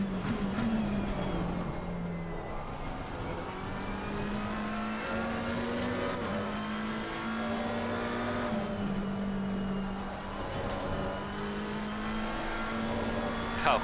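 The McLaren 720S GT3 EVO race car from Assetto Corsa Competizione drones at steady revs, holding a constant engine tone with brief dips as it shifts or lifts, and runs continuously with no voice over it.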